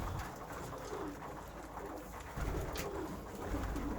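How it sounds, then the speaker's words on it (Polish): Soft, low cooing from pigeons in a loft blends into a hushed, noisy indoor background, faint and continuous with no talking. "Podobały się wam te gołębie."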